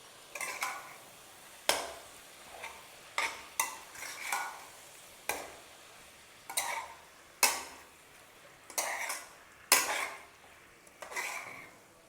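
Tomato pieces and cleaned chicken are stirred in a pan for a drumstick chicken curry, a spoon scraping and clanking against the metal in repeated sharp strokes with brief pauses, close and clear with a faint sizzle beneath.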